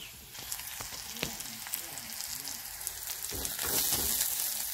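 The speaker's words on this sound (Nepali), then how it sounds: "म चाहिँ प्याज अलिकति त्यो खरेर हाल्छु खोर्सानी यहाँ हाल्छु" Onion and green chili frying in a pan while egg chowmein is cooked, giving a steady soft sizzle with scattered pops and crackles that grows a little louder near the end.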